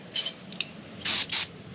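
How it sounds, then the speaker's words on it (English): Brake cleaner sprayed from an aerosol can onto a new front brake rotor of a 2016 Ford F150, a couple of faint short hisses, then two louder close bursts of spray, no talking. "For the new rotor, I'm taking spray some brake clean on it."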